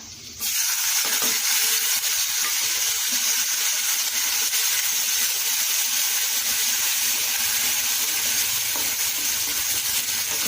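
Chopped onion sautés with asafoetida in a pan for a drumstick-leaf dish, a loud close hiss of frying that starts abruptly and holds steady throughout.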